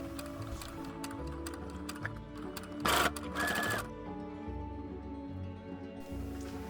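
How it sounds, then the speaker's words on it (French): Electric sewing machine running steadily as it stitches fabric for a recycled glass-jar doll craft, a close continuous whir with one brief louder, harsher burst near the middle and no talk. "Je vais tout simplement aller coudre à la machine toute cette partie-là."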